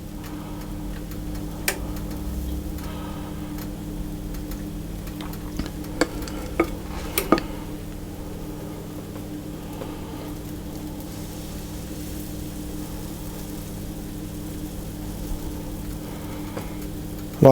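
Banana oat drop scone batter cooks on a griddle with a low, steady hiss and a background hum, broken by scattered light ticks and clicks, strongest early on.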